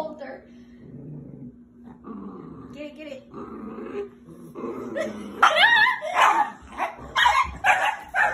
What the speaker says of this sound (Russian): Эти люди пытаются выяснить, как безопасно отобрать эту кость у этой собаки.